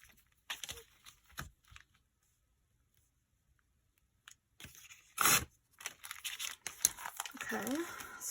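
Scissors trim a paper bag in short bursts of crisp snipping and crinkling paper, separated by quiet gaps, with a faint voice near the end.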